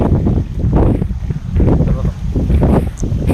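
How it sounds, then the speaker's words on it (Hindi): Wind blows steadily outdoors by a river at a fishing spot and buffets the microphone. It makes a loud, continuous low rumble with gusty surges throughout and no clear talk. "आटा भी मिलाने नहीं दे रही हवा, कि हवा चल रही"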